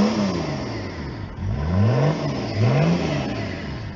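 A cold Range Rover P38 diesel 4x4, just started by push button after a repair, hums at a rough idle, then its engine is revved up and down in several loud, rising and falling sweeps, close and unaccompanied.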